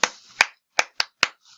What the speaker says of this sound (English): Another thing that you can do is clap.